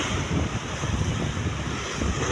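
Strong sea waves at the Burgos port in Southern Leyte surge and churn as a continuous broadband roar, mixed with heavy wind buffeting the microphone, with no talking.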